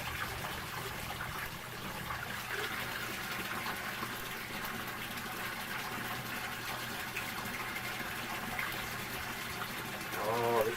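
Running water splashes steadily as antique bottles are rinsed under a tap, a continuous close wash of liquid with faint talk mixed in.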